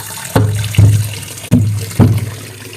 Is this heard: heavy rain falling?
no